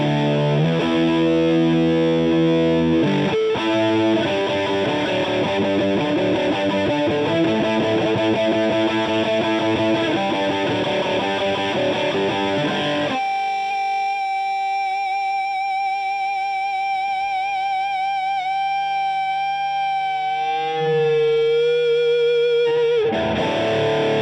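High-gain electric guitar played through a Mesa Mark V 25 amp at bedroom volume, starting with loud, thick distorted riffing, then shifting to sustained ringing notes and singing feedback before the heavy riffing returns.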